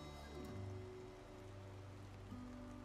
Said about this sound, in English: Finally got some rain.